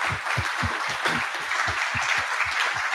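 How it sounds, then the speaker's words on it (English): Audience applause greets the six winning teams at the ETH Singapore hackathon closing ceremony, a dense steady patter of many hands clapping close and continuous for the whole stretch. "get a round of applause for all those 6 teams who are now our winners"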